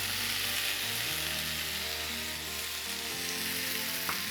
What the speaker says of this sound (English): we want to go ahead and add the diced tomatoes into here